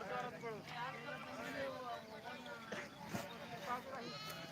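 Sheep and lambs at the Balumama temple in Belmachi bleat repeatedly, several quavering calls overlapping at a moderate distance, with people's voices mixed in.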